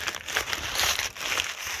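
Paper stuffing is pulled out of a Bath & Body Works shipping package, producing continuous close crinkling and rustling with irregular louder crackles, no talking over it.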